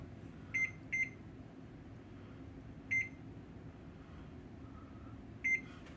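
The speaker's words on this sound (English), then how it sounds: "Let me set a timer." A kitchen timer is set while Southern squash dressing is being made, giving four short, bright beeps at uneven intervals over a steady low room hum, with no talking.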